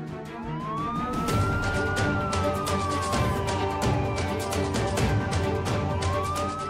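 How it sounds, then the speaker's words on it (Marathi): A wailing siren rises and falls continuously at night over a dense wash of background noise and rapid clicking, steady and fairly loud throughout. "क्या रात्री सायरन?"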